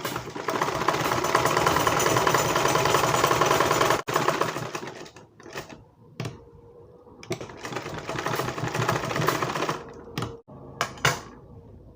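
A sewing machine stitches button loops on a blouse, its needle chattering in a fast, loud run, then breaking into shorter stop-start bursts separated by brief quiet gaps.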